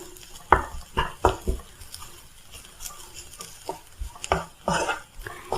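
A spoon or spatula stirs channa masala with spices and chilli in a pan, giving irregular scraping knocks and clinks against the metal in short bursts, close up, with no voices.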